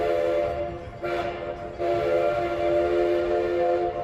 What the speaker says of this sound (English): there's a good train whistle